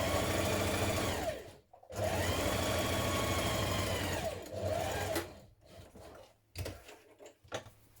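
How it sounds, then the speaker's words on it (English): A sewing machine stitches a 1 cm seam down the side of a fabric storage box, running loud and steady in bursts with a short pause, then stopping and starting in brief spurts near the end. "we're just going to sew down here with a 1 centimetre seam on each side"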